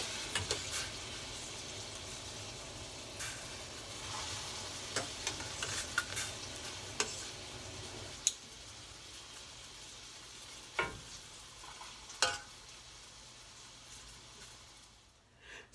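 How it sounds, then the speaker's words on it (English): Brown butter sizzles steadily in a pan for potato gnocchi sauce with soft crackling, a few sharp spoon taps and scrapes punctuating it, fading toward the end. "And because that butter is still hot, it's sizzling."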